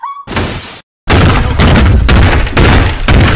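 Shotgun fire in a first-person sniper video game: after a short tone, a string of very loud, heavy blasts comes in quick succession, separated by brief gaps, with no talk.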